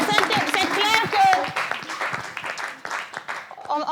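A studio audience gives an ovation, bursts of clapping and cheering that come and go over roughly four seconds, mixed with voices talking on top.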